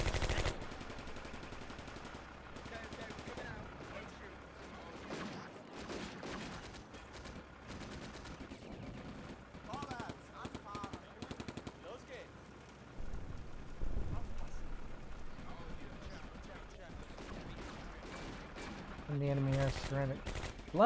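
A tank machine gun fires in the North African wargame Combat Mission Afrika Korps 1940, with rapid rattling bursts over a dense crackling battle din of scattered shots and distant rumbling booms.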